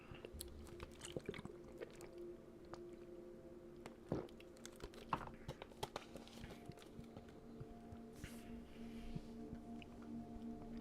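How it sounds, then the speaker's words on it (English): A person takes quick sips of water between stories, faint wet gulping and swallowing sounds with small mouth clicks over a low indoor hum, no talking. "I'm gonna just drink some water real quick."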